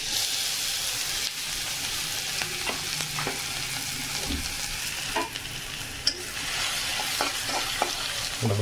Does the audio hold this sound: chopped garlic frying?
yes